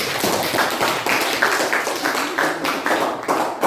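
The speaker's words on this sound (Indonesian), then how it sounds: "kita berikan aplaus untuk kelompok B" A small group of people applauds group B, quick sustained clapping of many hands at close range, steady and fairly loud throughout with no talking over it.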